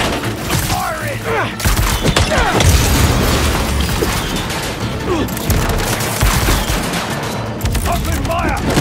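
Rapid gunfire and heavy booms from the PS5 game Spider-Man 2, a dense, continuous fusillade of shots and blasts. Shouted voices are heard under it.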